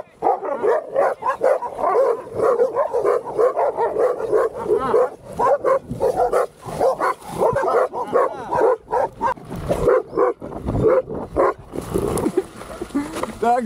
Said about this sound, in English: Definitely some loose dogs up there.